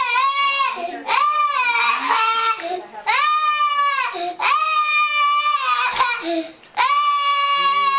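A young child cries and yells in loud, strained wails, bursts of about a second each separated by short gasping breaks, close and dominating.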